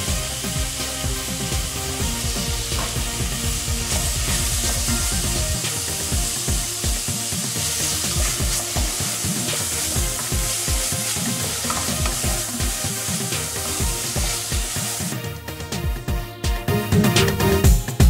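Minced meat and onions fry in a pot for Nigerian meat pie stuffing, giving a loud, close sizzle broken by rhythmic spoon scrapes as the mixture is stirred steadily. The sound grows rougher toward the end.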